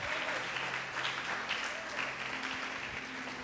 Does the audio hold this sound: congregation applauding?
yes